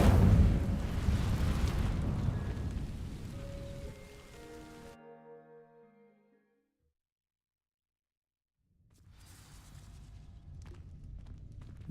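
An Incendio fire spell burns in a Wizarding World video game: a dense, crackling roar that holds for several seconds, thins and fades into silence, before a low rumbling bed returns.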